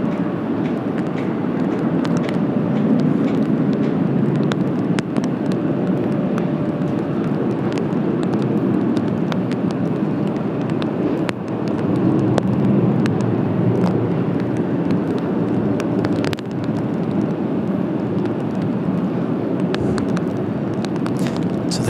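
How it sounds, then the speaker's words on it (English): A United Boeing 777 from Brussels rumbles steadily at Washington Dulles on a cloudy, drizzly day, a broad low roar holding throughout at fairly constant loudness. "So there you go, the 777 United from Brussels."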